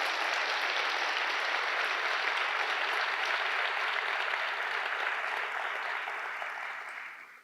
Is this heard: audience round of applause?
yes